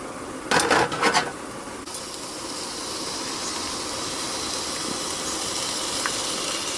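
Chopped ingredients hitting a hot pan in a home kitchen: a couple of quick clatters, then a loud, steady sizzling hiss that holds for several seconds.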